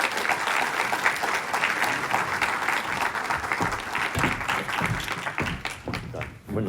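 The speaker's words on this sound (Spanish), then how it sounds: "Por favor, recíbelo con un aplauso" Church congregation applauding a speaker as he is welcomed, a dense, steady wash of clapping from a moderate distance that carries for several seconds before tapering off.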